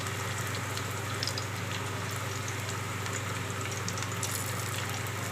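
Prawns fry in a pan with a loud, continuous dense sizzle and crackle that runs steadily without pause.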